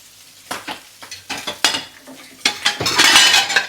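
Chopped onion sizzles in a pan for prawn risotto while a utensil stirs and scrapes it, giving sharp clinks and scrapes in uneven bursts over a rising, crackling fry, close and fairly loud.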